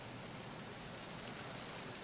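Heavy rain pours in Metal Gear Solid 2 aboard the tanker, a dense, continuous hiss of downpour at a steady level with no voices.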